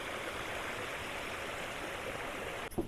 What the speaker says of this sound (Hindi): तो देखा आपने कि किस तरीके से पानी आ रहा है।